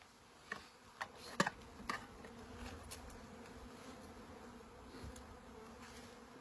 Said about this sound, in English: Now we just introduce the rest of the bees into the hive.